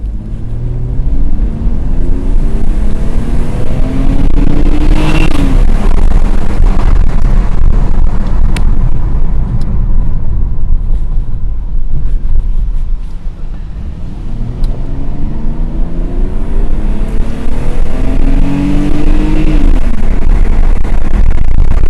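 A 1998 BMW 323i accelerating in sport mode, its engine rising loud and close through the gears with two clear upshift sweeps, under heavy wind and road roar, with someone speaking briefly.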